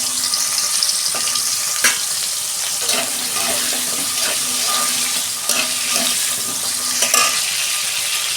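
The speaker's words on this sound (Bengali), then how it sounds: "তেল গরম হয়ে গেছে, প্রথমে আমি আলুটা ভেজে নেব" Two medium potatoes fry in hot oil in a kadai, a steady loud sizzle with scattered clinks and stirring knocks of a utensil, running throughout without talk.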